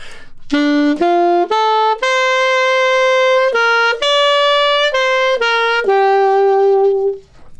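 A solo alto saxophone plays a slow stepwise melody of clear sustained notes, loud and close, ending on a long held tone.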